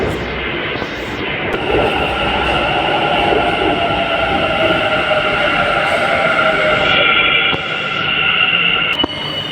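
A Bangalore Namma Metro train pulls into a station with a loud, steady rumble and a high electric whine that runs the whole time, with brief shifts as it slows. No voices are heard.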